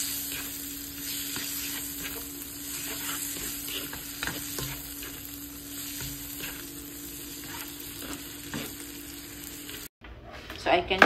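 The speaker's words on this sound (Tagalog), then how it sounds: "Mag-saute tayo ng onion." Onions sautéing in a pan at home, a steady close sizzle and fry with occasional stirring scrapes and a faint hum underneath, cutting out briefly near the end before a few clatters.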